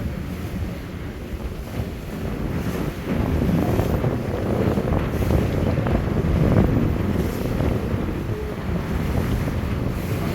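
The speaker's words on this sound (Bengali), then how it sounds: "যেই মুহূর্তে সুরভি 7 লঞ্চকে ক্রস করে বরিশালের উদ্দেশ্যে এগিয়ে যাচ্ছে প্রিন্স আওলাদ 10" Passenger launch Surabhi 7 travelling on a river between Barishal and Dhaka, with a continuous low engine rumble, rushing water and heavy wind buffeting the microphone, loud and steady, no talk.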